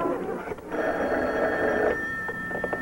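A vintage home telephone bell ringing, one loud sustained ring indoors, standing alone with no voices over it.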